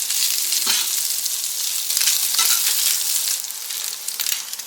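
Sausage frying in a pan, cooked until crispy at the edges, gives a steady, close, loud sizzle with crackling spits running throughout, with no talking.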